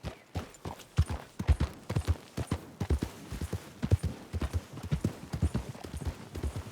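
Horse hooves clip-clop in a quick, steady galloping rhythm as a rider travels at speed in the video game Red Dead Redemption 2, close and clear with no talk over them.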